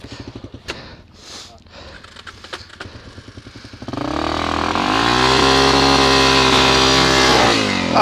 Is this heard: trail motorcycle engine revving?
yes